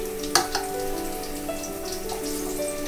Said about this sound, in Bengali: মাছগুলো এক পিঠ ভাজা হয়ে গেছে, এক পিঠ উল্টে দিলাম।